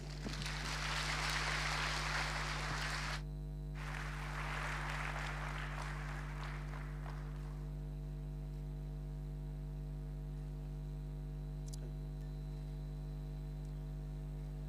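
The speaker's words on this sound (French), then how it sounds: "Mesdames et Messieurs, sous vos applaudissements." Audience applause greeting the President at the start of his address at an official French technology event, a dense steady clatter of clapping for about three seconds, then a short second burst that fades out into a constant room hum.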